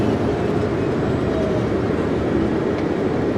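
Rumbling train noise at North Platte Bailey Yard, where eastbound departures run up to 8,000 feet long, a steady broad low roar with no talk, heard from a bus during a yard tour.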